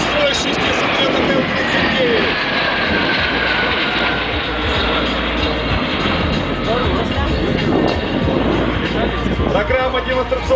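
A formation of six L-39 jet aircraft flying tight aerobatics at the MAKS 2015 air show in Zhukovsky, a continuous loud roaring jet rumble throughout, with an announcer speaking over it on a public address.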